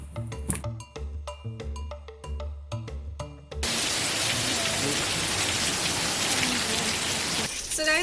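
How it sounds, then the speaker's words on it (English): Heavy rain pours steadily during a hike up Pidurangala rock in Sri Lanka, a loud, dense wash of drops on surfaces that starts abruptly after a few seconds of music and then continues without break. "it's raining heavily here and we're stuck in middle"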